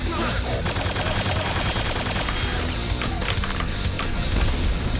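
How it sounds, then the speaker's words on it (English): Rapid bursts of Hyper Blaster fire in Quake II, loud and continuous, with sharp crackling impacts layered over a busy background. "It's nice that we've been able to use the Hyper Blaster so much."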